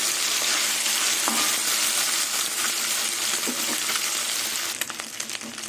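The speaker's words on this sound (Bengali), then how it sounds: "উল্টে পাল্টে ভেজে নেবো মাছগুলো ভালো করে" Small fish frying in oil in a pan, a steady loud sizzle throughout with occasional stirring and turning clatters, easing slightly near the end.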